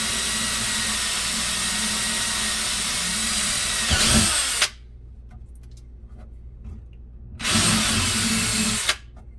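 A power drill whirs loudly for several seconds while drilling a hole during a reverse osmosis system installation, stops, then runs again in a second steady burst after a short quiet pause.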